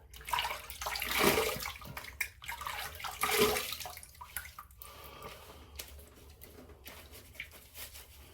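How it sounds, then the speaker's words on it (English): Water splashes and trickles as a face is rinsed after a shave, with a couple of louder splashing bursts early on, then quieter dripping and running water close by, with no talk. "I'm gonna rinse the face and we'll do the post shave here."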